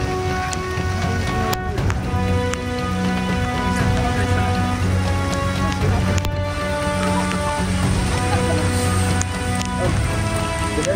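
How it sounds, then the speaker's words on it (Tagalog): Heavy rain pours down hard and steadily on a surface, a dense, loud, continuous roar that runs without letup from start to finish, with no talk over it. "Nabot na tayo ng ulan."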